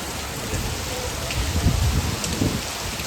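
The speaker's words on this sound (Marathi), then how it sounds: "रात्रभरपासून पाऊस पडतो" Heavy rain pours steadily during a flood after falling all night, a dense close hiss with low rumbling beneath that swells slightly midway, with no voices.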